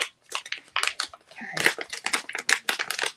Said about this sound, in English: inside here is a Ziploc top, and it zips.